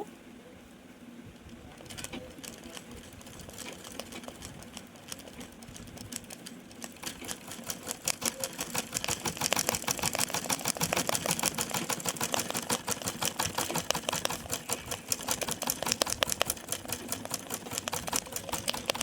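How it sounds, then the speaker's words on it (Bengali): A sewing machine runs a line of running stitch in black thread on a lion embroidery design, its needle chattering fast and evenly. The rattle starts after a quiet moment and grows louder and steadier. "এটা আমি রানিং দিচ্ছি, রানিং সেলাই দিয়ে করছি"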